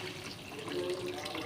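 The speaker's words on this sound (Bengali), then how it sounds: "এবার জল দিয়ে দিলাম।" Hot water poured into mutton curry cooking in a pot: a short, steady watery pour, close and soft, heard on its own.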